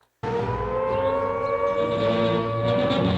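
A loud air raid siren kicks in abruptly after a moment of silence and holds a steady, wailing tone throughout.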